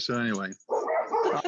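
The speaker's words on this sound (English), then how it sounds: "So sorry, I got 4 dogs. I'm sorry about the background noise," Household dogs bark and yelp in the background while a person talks over them on a call, the barking loud and close.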